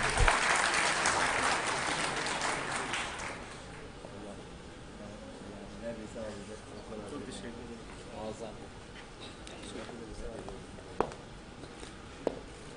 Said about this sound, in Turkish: Sayın Ahmet Bikiç'i alkışlarınızla sahneye davet ediyorum.